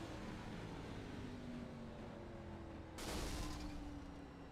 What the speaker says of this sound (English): Just sounded like the engine revved to an incredibly high rate.